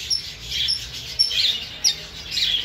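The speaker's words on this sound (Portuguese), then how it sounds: "Temos aqui alguns casais de Red Humped também na promoção." Red-rumped parrots, including blue pairs, chirp in a pet and farm-supply shop, bright repeated tweets and short whistles coming in quick bursts, moderately loud and fairly near, with no speech.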